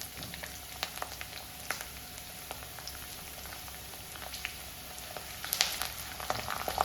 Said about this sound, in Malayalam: നമ്മുടെ വെളുത്തുള്ളിയും ഇഞ്ചിയും വേപ്പിലയും എല്ലാം കൂടെ നന്നായിട്ട് മൂക്കണം